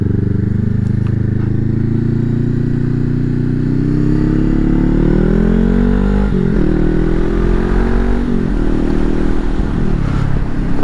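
Motorcycles on a licence-test course, their mid-pitched engines droning steadily and close, with rising and falling revs as the bikes accelerate and slow, and no talk.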